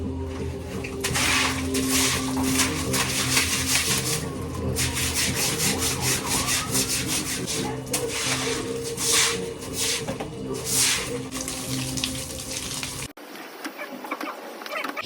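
Scrubbing and washing a dirty floor with water: continuous, rhythmic brush strokes rasp back and forth up close for about thirteen seconds, then stop abruptly into near silence.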